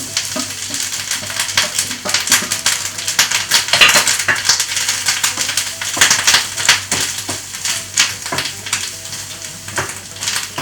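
Chickpeas with grated coconut and curry leaves being stirred in a hot pan, a steady sizzle of frying under repeated scraping strokes of a spoon against the metal, close and fairly loud throughout.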